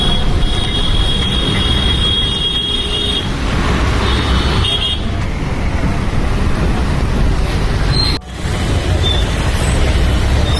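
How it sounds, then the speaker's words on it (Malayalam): A train rolls past close by at Aluva railway station with a loud, continuous rumble and clatter that holds for several seconds, broken briefly by a sharp gap. "ആലുവ റെയിൽവേ സ്റ്റേഷൻ അതിൻ്റെ ഒരു ട്രെയിൻ പോയിരുന്നുണ്ട്"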